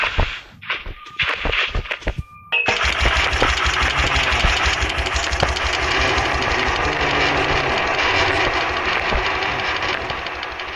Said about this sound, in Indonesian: Oh ini harus di starter dulu ya.